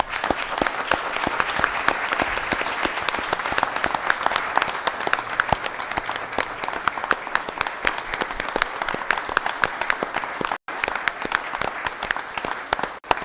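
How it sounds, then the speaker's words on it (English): Sustained audience applause at a town council meeting in Bethany Beach, dense steady clapping from a roomful of people, loud and continuous with a brief dropout near the end. "So let's all give them a round of applause."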